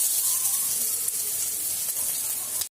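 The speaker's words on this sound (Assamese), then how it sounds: "এই তেলখিনি গৰম হোৱাত পিয়াজ আৰু গুটা জিৰা ঢালি দিম আৰু মই একেলগে আদাৰ পেষ্ট খিনিও ঢালি দিম" Onion and cumin seeds frying in hot mustard oil in a pan, giving a steady, close sizzling hiss that holds evenly and then cuts off abruptly.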